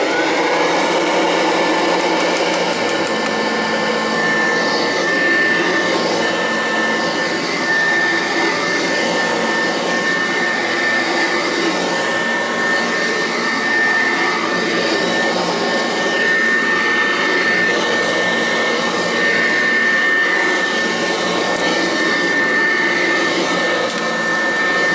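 A Kirby Classic Omega vacuum cleaner fitted with a metal fan runs steadily throughout, a loud, close, continuous whine and roar with a sustained high tone and no talk.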